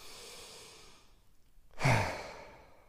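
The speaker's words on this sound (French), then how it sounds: "Bien fort, vous inspirez à fond." During a guided body-scan relaxation exercise, one deep, forceful breath is drawn in close to the microphone after a quieter breath, with no talking.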